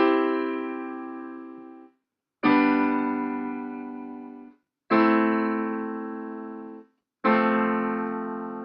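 Piano plays a popular pop chord progression as four sustained chords, each struck cleanly and left to ring and decay for about two seconds before a brief silence, close and solo with no voices.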